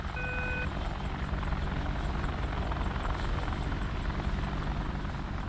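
An AH-64D Apache helicopter in DCS World gives a steady loud rotor drone with a faint repeating high whine and thump, running without a break.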